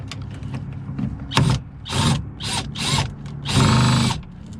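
A power drill whirs in several short bursts, the last one longest, as it drives a screw while speakers are fitted into a 2003 Honda Accord sedan, with faint handling noises between bursts.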